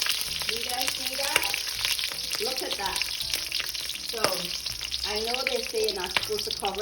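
Eggs fry in hot oil in a pan for Guyanese egg curry, giving a steady close sizzle with spatters and stirring, while a person talks over it.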